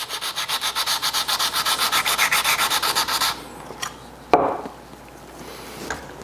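A card scraper's edge is rubbed back and forth on abrasive grit in quick, even strokes, a rhythmic close-up scraping for about three seconds, followed by a few isolated scuffs and a knock.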